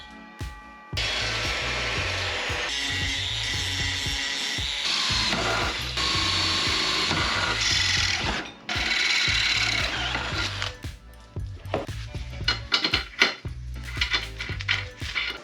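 A power tool cutting metal tubes for a modified folding bike whines loudly in several long passes, each stopping abruptly, then trails off into scattered clanks and rattles of handled metal.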